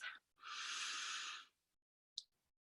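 A single slow, deep breath taken during a gentle yoga session, a steady airy rush lasting about a second, followed by a short faint sniff-like exhale; quiet, close and alone.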